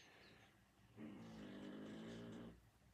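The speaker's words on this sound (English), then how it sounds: "That's Chief snoring." A dog snores softly, one long drawn-out rumbling breath that swells in the middle and fades, faint and close in a quiet room.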